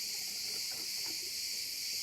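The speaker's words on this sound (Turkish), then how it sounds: "Cırcır böceğin sesini çok seviyorum böyle." Crickets chirping outdoors near a mountain spring, a dense, steady high-pitched trill that fills the background continuously and faintly, with no speech.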